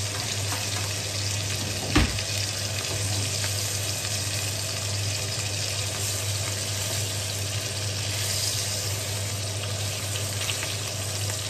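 Sausage frying in a hot pan gives a steady, close sizzle and hiss throughout, with one brief knock early on and no voices.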